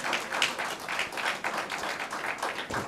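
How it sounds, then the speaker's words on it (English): Steady applause from a conference audience at a youth ministers' ceremony, a dense patter of many hands clapping at moderate volume throughout, with no voices standing out. "It's a round of applause, yes."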